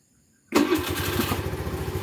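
A Rusi Flex 125i motorcycle running on a new Motolite Champion battery starts instantly with one abrupt catch, then settles into a loud, steady idle close by.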